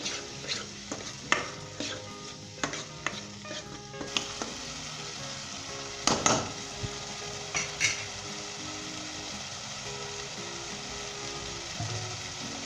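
Green peas being stirred into a thick masala gravy in a frying pan, for a Punjabi pea and boiled egg curry, with a steady low sizzle and scattered clicks and scrapes of the spoon against the pan, no voices.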